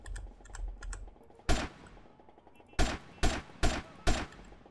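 AK rifle fire in GTA San Andreas cracks out as one sharp shot, then a quick run of four evenly spaced loud reports, with quiet game background between them.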